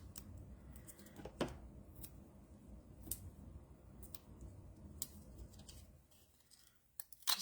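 Scissors snip through paper while cutting a piece in half for a nature-themed papercraft project, giving a few quiet, separate crisp clicks over a low room hum.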